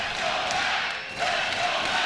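A college wrestling crowd at a Utah Valley dual against Oklahoma cheers in a loud, continuous roar with scattered shouts, holding steady over two seconds with a brief dip in the middle.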